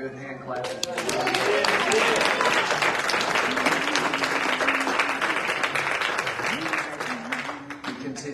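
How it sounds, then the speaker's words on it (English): Church congregation at a Sunday morning service gives a sustained burst of hand clapping that swells and holds for several seconds, with voices, shouts and music-like tones running beneath the dense applause. "Somebody give Jesus one more good hand clap."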